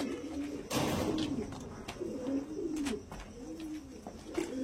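Pigeons coo steadily inside a shipping box holding 33 Andhra pigeons, a dense, overlapping murmur of low throaty calls with occasional wing rustles, close and continuous throughout.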